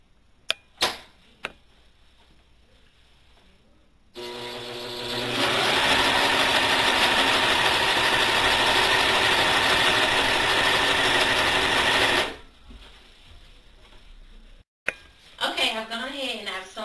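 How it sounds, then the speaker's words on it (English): A serger sews down the edge of a maxi dress with a steady, loud mechanical whir lasting about eight seconds, set between quieter handling clicks and bits of talk before and after. "And I'm going to use my serger."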